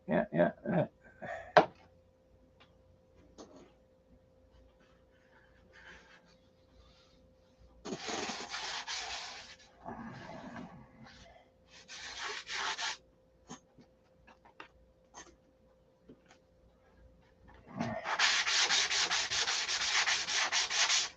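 Repeated bursts of harsh, scratchy sanding against a rough surface, several strokes separated by quiet pauses, close and fairly loud.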